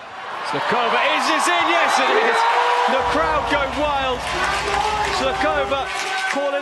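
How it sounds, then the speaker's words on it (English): At a beach volleyball match in Ostrava, a crowd cheers loudly and continuously, and a commentator's voice rises and falls over the roar as it shifts in intensity halfway through. "The crowd go wild."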